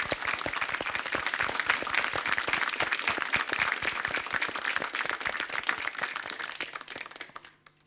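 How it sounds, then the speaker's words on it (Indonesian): Lively audience applause opening a televised comedy quiz show, crisp dense clapping from a studio crowd, steady and energetic before fading out at the end. "kita sambut permainan kuis humor ini dengan tepuk tangan yang meriah"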